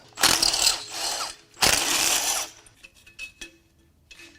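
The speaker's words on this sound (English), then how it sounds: "I'll unbolt the brackets from the head." Brackets being unbolted from the cylinder head of a BMW M5 S63Tu twin-turbo V8 during a teardown: two loud bursts of rapid ratchet clicking, followed by quieter scattered metallic clinks and handling of tools and parts.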